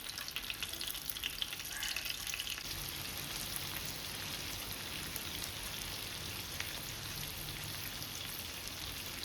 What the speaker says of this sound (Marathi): आणि त्याच सेम फ्रायंग पॅनान भाजूंक सोडटा